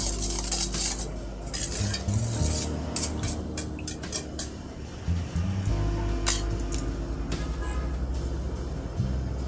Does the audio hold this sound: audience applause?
no